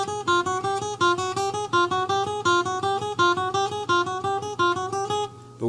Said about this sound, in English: just an easy picking activity that really syncs up your picking hand and your fretting